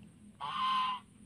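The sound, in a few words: goose honking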